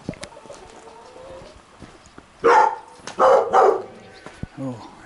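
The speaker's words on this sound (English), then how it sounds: "Oh, a friendly dog." A friendly farm dog barks several times at close range on a farm lane near chickens and farm machinery, sharp loud bursts clustered together with some background noise and bird sounds around them.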